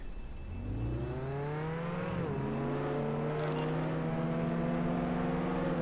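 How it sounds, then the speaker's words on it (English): An engine drone from a car driven through a city in the Roblox game, a steady close whine rising and falling in pitch as the vehicle accelerates and shifts, continuous with no talk. "so we're just driving through the city"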